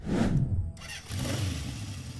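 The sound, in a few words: Honda CB750 inline-four motorcycle engine starting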